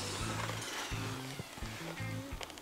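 A handheld power drill bores large holes, its motor whining in several short bursts and pauses as the bit bites and jerks; the sound is close and fairly loud, with no voices.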